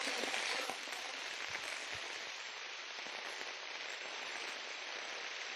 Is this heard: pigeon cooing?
no